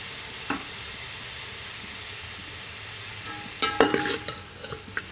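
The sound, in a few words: stir-frying vegetables with capsicum in a pan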